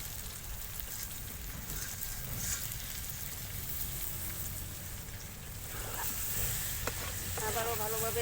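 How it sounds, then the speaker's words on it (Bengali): Marinated chicken sautéing in a pan with chopped tomato, two green chillies and coriander leaves for chicken curry, giving a continuous loud sizzle and bubbling hiss with some stirring scrapes late on. "ম্যারিনেট করে রাখা মাংসটাকে দিয়ে দিয়েছি। এবার আমি ভালোভাবে কষিয়ে নেব।"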